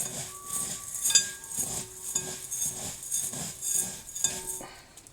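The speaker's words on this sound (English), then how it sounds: "Pop that over the side, and then I'll start to mix that through." Rock salt being mixed in a bowl for lavender bath salts, with a soft, rhythmic gritty scraping and occasional faint clinks repeating steadily, fairly quiet.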